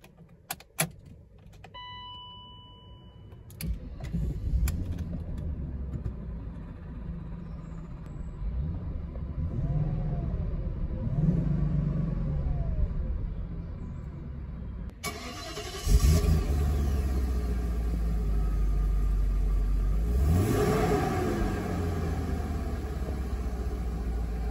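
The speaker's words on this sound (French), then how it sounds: "Allez, c'est parti, démarrage du V8." A 1994 BMW 740iL with an M60 V8: key and electrical clicks come first, then the engine cranks and fires up and settles into a steady, deep idle, with a second loud rev-up later on.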